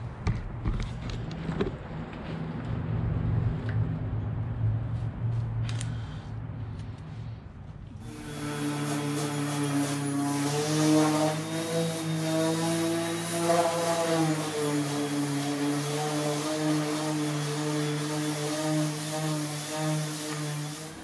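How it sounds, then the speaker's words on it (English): A DeWalt power sander on a boat hull starts up partway through and runs steadily as a loud, buzzing whine with shifting pitch, after a stretch of quieter background noise. "What did you kill? My sander. DeWalt."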